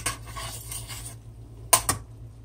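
Spoon knocks against a pot twice while food is stirred on a home stove, a couple of sharp close metallic clinks after a stretch of quiet soft scraping.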